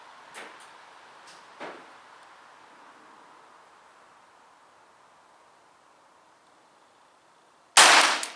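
An air gun fires a hollow base pellet: two faint sharp clicks early on, a long quiet stretch of low hiss, then one loud crisp shot near the end.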